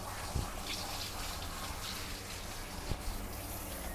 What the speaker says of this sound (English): Let's do a thorough rinse here.